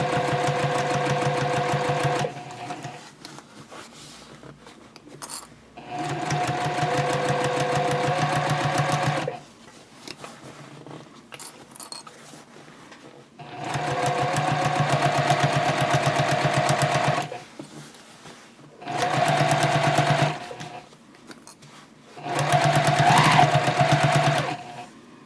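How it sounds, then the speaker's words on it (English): A home sewing machine stitches a fabric basket in several bursts of steady, fast whirring, each lasting a few seconds, separated by quiet pauses as the fabric is repositioned. "so you can stitch over your beginning stitches a little bit and end it"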